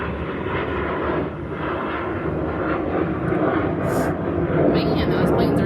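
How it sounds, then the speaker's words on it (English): A loud, steady roar of aircraft overhead fills the whole stretch, continuous and rumbling, with a person talking underneath. "Man, those planes are noisy."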